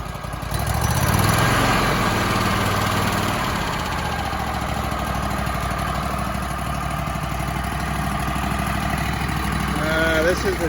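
A Vermeer stump grinder's engine cranks over and catches, then settles into a steady, loud mid-pitched running drone close by, with a voice briefly heard near the end.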